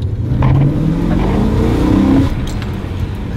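A BMW M3 E92 with its stock exhaust revs up close, the V8 note rising in pitch and then falling back to a steady idle rumble.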